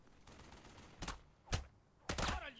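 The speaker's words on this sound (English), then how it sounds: "someone just shot at me. I think that's the partially suppressed MG." Partially suppressed machine gun fire in the WWII tactics game Burden of Command, set in Sicily: three sharp bursts spaced about half a second apart, loud against a quiet background.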